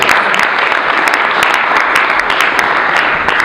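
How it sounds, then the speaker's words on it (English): An audience at a panel event on the Lebanese diaspora gives a loud, sustained round of applause, dense clapping throughout with no pause. "Big round of applause."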